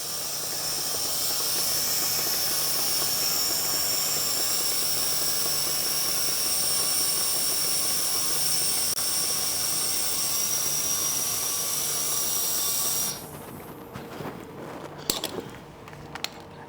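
A Monster Valve Tap2 airs up a tire with a loud, steady rushing hiss of air for about thirteen seconds, then cuts off, leaving faint clicks and handling noise.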